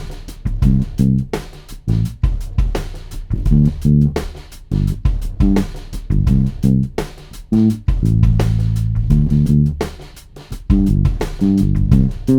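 A bass plays a steady walking line of single root notes, plucked evenly with a firm, rhythmic pulse and nothing else alongside.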